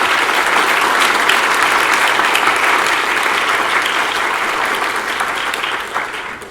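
An audience applauds steadily in a lecture hall to welcome Professor Nelson to the stage, a dense, even patter of many hands that holds loud and then tapers off at the end.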